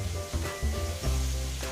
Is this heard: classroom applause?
no